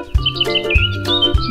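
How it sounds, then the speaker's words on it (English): Bird chirping: short bright tweets repeating over a steady background tone, close and fairly loud, several calls in quick succession. "Birds."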